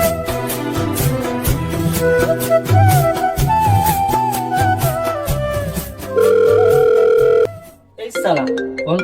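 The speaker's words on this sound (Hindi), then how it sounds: "साला कौन फोन कर दिया रे?" A telephone rings with a loud, repeating electronic melody of bright tonal notes that cuts off abruptly, followed by a short burst of different tones.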